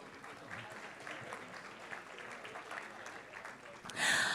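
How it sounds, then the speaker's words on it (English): Faint applause from an audience at the opening session of a summit: a soft, steady patter of many hands heard at a distance, with a louder swell right at the end. "Can we have a round of applause, please?"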